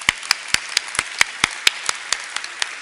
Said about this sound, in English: Turn and smile, Eric, while we clap for you.